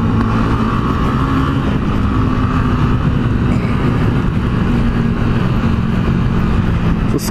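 Honda CG125 Titan motorcycle engine droning steadily while riding, a constant close low hum with no pauses throughout.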